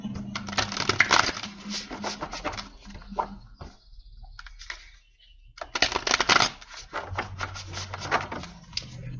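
Tarot cards are shuffled and drawn by hand in close, riffling bursts of soft flapping and tapping, with a quiet pause in the middle before the shuffling resumes; no talking is heard.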